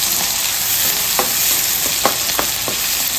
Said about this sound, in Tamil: இப்போ வந்து கட் பண்ணி வச்சுக்கிற வெங்காயம் பச்சை மிளகாயில் அப்படியே சேர்த்துக்கலாம் நல்லா வதங்கணும்